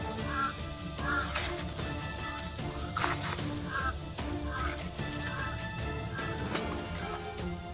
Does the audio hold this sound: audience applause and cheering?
no